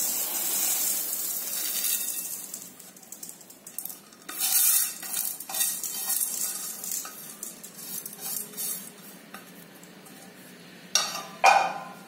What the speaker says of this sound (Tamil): இப்ப வறுத்து இருக்க உளுந்த வந்து இதோட சேர்த்து போட்டு கலந்துக்கிறோம்